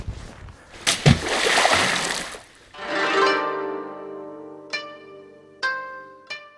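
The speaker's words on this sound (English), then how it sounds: "I like it actually if the log has sort of a decent impact with the water, just to vibrate it and quote unquote shock it a bit" A shiitake log plunged into a tank of water for soaking makes a loud splash and a long sloshing churn, then settles into ringing, drawn-out tones broken by two short sharp knocks near the end.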